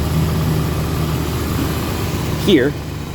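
A car engine with an exhaust leak near the rear oxygen sensor idles at close range in a shop, a steady low rumble throughout, with a brief voice-like sound near the end.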